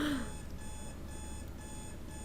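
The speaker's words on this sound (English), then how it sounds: "Dia hits an alarm and flops face first into bed." An alarm clock from the video game Butterfly Soup rings briefly and loudly at the start, then cuts off into a steady background hum.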